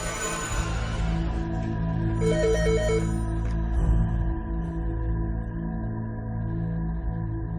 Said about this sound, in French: la sonnerie du téléphone donc retentit